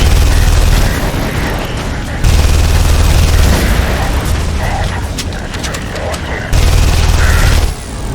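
Gunfire in The Saboteur video game, sounding as dense, loud bursts of rattling shots and mechanical clatter that come in surges with short drops, close and continuous.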